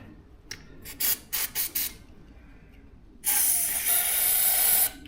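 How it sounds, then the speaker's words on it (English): Carb cleaner is sprayed into the carburettor of an old ride-on mower: several short hissing bursts, then one long sustained spray lasting nearly two seconds, close to the microphone. "spray some carb cleaner into that."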